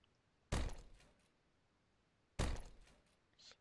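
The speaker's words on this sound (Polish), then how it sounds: "Wyważymy sobie drzwi." A door being forced open in the zombie action game Dead Island: two heavy, loud thuds about two seconds apart, each with a short rattling decay, followed by a fainter knock near the end, with no speech.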